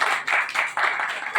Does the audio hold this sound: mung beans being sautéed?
no